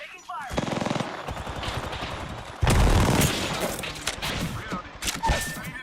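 Sustained automatic gunfire and bursts of shots in a first-person shooter video game, loud and close, with a heavy volley starting midway, while a voice calls out over the shooting.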